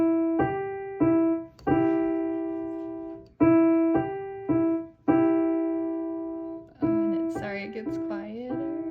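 Piano plays repeated two-note thirds in a slow, even rhythm, each chord ringing out and growing quieter, then a quicker descending run at the end.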